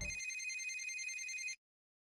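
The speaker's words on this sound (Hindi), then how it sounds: "इससे पहले राघव और उर्वशी का फोन आया।" A telephone rings once with a clear, bright electronic trill lasting about a second and a half, close and alone, then stops dead into silence.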